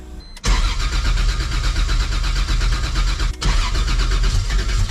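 A 1.5JZ engine swapped into a BMW E46 M3 cranks, catches and runs loud and close, with one brief dropout before it fires again and keeps running rough.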